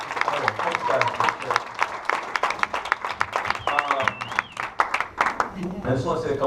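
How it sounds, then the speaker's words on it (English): Church congregation at a Sunday service breaking into a round of applause, dense steady clapping filling the room with cheers and voices mixed in throughout. "give him a big round of applause"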